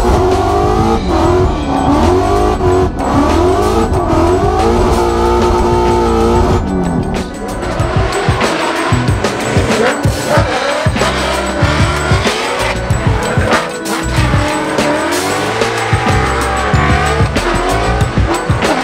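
A Ford Mustang RTR Spec 5D drifting at a festival event, its engine roaring loud and close with sustained tire squeal and skidding, revs rising and falling throughout with no talk.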